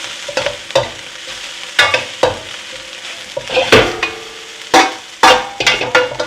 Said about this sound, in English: stir fry is all about heat and speed and keeping it stirred